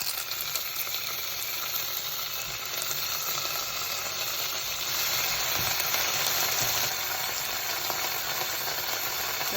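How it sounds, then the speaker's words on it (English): Homemade halloumi cheese frying in a pan, a steady close sizzle crackling without pause throughout, with no talking. "So you can fry it now like halloumi."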